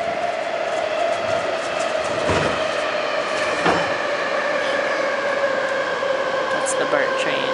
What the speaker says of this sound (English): The BART train.